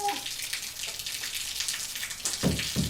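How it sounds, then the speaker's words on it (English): Water runs and trickles through a broken ABS plastic drain pipe elbow, a soft continuous splashing flow close by, with a few louder gurgling drips near the end. "And yes, that is running water."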